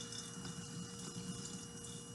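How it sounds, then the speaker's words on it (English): Vinegar pours steadily out of a container holding a soaked egg, a continuous soft liquid trickle with a faint hum in the background. "Now I'm going to pour out the vinegar."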